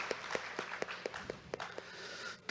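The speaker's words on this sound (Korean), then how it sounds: "없으시면 역시 박수로 승인해 주시기 바랍니다" A small gathering at an accounting society meeting claps to approve a budget, brief and fairly faint, with a handful of scattered claps at an uneven pace that fade out after a couple of seconds.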